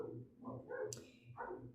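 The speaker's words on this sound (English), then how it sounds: "Sorry about the dogs in the background." Several dogs bark in the background indoors, a quick run of yips and barks in uneven bursts, fairly faint and with no voices over them.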